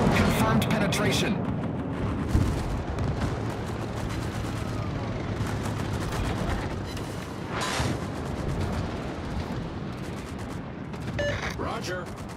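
Naval gunfire from the battleship Texas in World of Warships rumbles in heavy, booming salvos amid constant battle noise, with a sharp report near the start and another loud blast mid-way, while a voice speaks over it.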